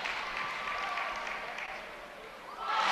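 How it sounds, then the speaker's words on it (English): A crowd at a women's basketball game between Michigan and Wisconsin gives a sustained, moderately distant cheer and applause, fading briefly before swelling again at the end, with a commentator talking over it. "there a big cheer from the crowd"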